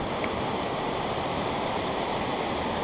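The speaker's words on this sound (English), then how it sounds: "We're back here by the waterfall" Waterfall heard up close beside a bass-fishing spot, a loud continuous rushing hiss of falling water filling the whole clip with no voices.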